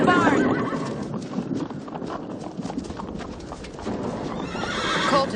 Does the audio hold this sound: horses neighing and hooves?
yes